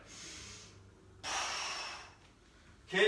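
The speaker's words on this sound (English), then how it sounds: "It's okay to breathe heavy, you're working out." Heavy breathing during an upper body and cardio workout: two long, close exhalations, forceful and noisy, each lasting about a second, followed by a short sharp intake of breath at the end.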